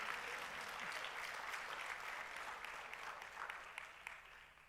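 A church congregation at a Spanish-language Easter Sunday service applauds steadily, a broad, fairly distant wash of clapping that slowly fades.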